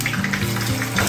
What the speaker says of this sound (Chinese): 再炸一锅